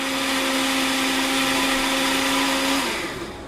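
Fresh tomatoes pureed into pomodoro sauce in a blender, a loud, steady motor whir with a constant high hum running close for about three seconds before winding down.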